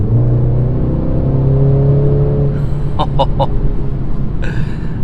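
A 302 hp BMW X2 M35i accelerates on a road, its engine note rising steadily and loud up close, with a few sharp pops or crackles near the end.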